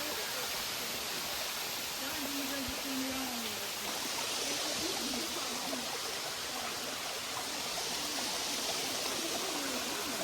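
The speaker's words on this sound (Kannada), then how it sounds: "ಗೈಸ್, ಹಬ್ಬದೊಳೆ ಫಾಲ್ಸ್ ಹತ್ರ ಬಂದ್ವಿ. ತೋರಿಸ್ತೀನಿ ನಿಮಗೆ ಹೆಂಗಿದೆ ಅಂತ." Habbadole waterfall near the source of the Netravati river roars as a steady, loud, dense rush of falling water that fills the whole clip without a break.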